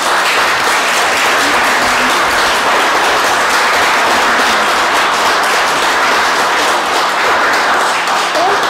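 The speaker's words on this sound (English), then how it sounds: "let's give them a round of applause" Sustained applause from the audience at a city council meeting honoring a ladies' reading circle, steady dense clapping that stays loud and even throughout with no talk over it.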